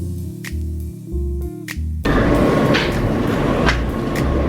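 A New York subway E train in a station, heard up close as a steady loud rumble of wheels and motors that swells to a dense roar about halfway through and holds to the end, with no voices.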